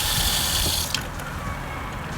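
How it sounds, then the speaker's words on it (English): Water runs steadily from the kitchen tap of a self-converted VW Crafter campervan, a close, continuous gushing stream into the sink that eases slightly partway through. "So over here you have the water tap."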